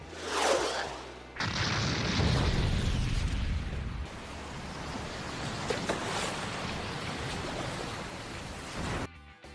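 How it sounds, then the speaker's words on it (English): Anime fire explosion from Usopp's flame star attack against Luffy: a sharp blast followed by a long roaring, whooshing rumble that fades into crackling debris before cutting off. "using the flame star to unleash a devastating explosion, which does do some damage to Luffy"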